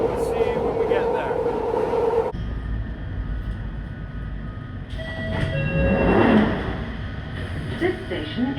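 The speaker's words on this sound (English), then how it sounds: "we're going to take this train here now to Kentish Town" A London Underground Northern Line train bound for Kentish Town rumbles and rattles through its run, with shifting engine and wheel noise and a loud swell near the end, while people talk over it.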